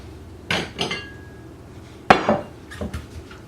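Onion being cut with a knife on a board while preparing vegetables for beef bourguignon, a few distinct knocks and clinks spaced apart, close and fairly crisp, with no talking.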